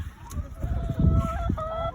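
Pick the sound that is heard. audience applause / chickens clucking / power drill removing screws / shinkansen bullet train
chickens clucking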